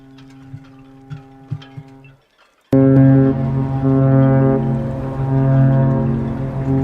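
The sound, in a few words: cruise ship Arcadia sounding its horn while departing Southampton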